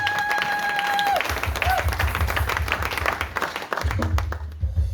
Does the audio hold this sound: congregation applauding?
yes